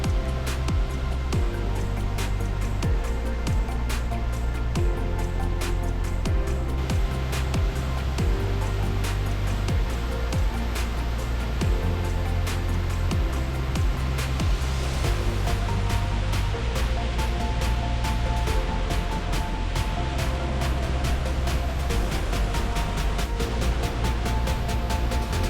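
A waterfall at Palenque roars as a dense, steady wash of falling water, loud and close, continuous with no voices.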